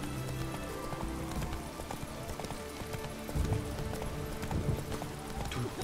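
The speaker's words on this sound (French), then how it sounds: "Je peux pas galoper là." Horse hooves clip-clop in a quick, steady rhythm as a horse moves in The Witcher 3 video game, fairly quiet and continuous with a few louder strikes.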